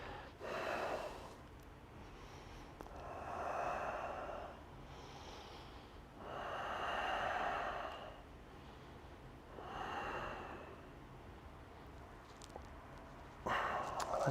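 Slow, audible yoga breaths during a core flow session, several long inhales and exhales rising and falling in a steady rhythm, close and fairly quiet, with no talking.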